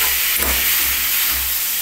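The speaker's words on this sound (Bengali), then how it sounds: "একদম কড়াইয়ের সঙ্গে লেগে যাচ্ছে, মানে পটলটা খুব সুন্দর ভাজা হচ্ছে।" Pointed gourd frying and sticking in a wok with a little oil and spices, a continuous close hiss with low rumbling pulses, no voices.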